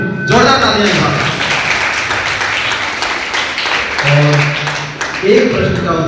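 Clapping from students at a school mathematics quiz assembly, a dense burst of applause mixed with a voice speaking over the room and some tonal sounds.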